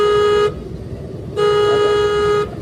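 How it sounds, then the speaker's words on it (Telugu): Two sharp, steady car horn honks, each about a second long with a pause between, sound from a car during a driving lesson over a low engine and road rumble. "హార్న్ కొట్టండి"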